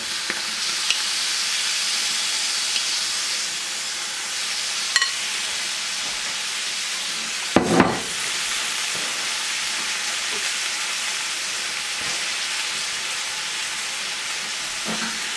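Huli huli chicken pieces sizzle steadily in a pan, a continuous close frying hiss with a brief clatter midway as the pieces are moved around.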